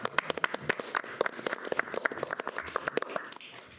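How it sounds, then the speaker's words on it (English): Sparse, quiet clapping from a city council meeting audience honoring an award recipient, individual claps distinct and uneven, fairly close and moderate over a few seconds with no voices. "But we applaud him also."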